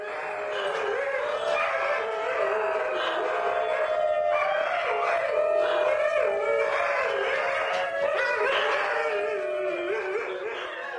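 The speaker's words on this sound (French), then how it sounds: "On parle de la plus ancienne souche de canidés et on les appelle aussi les chiens chanteurs." Captive-bred singing dogs howl together in a duet, two wavering, sliding voices that rise and fall continuously for several seconds, loud and close, with no talking.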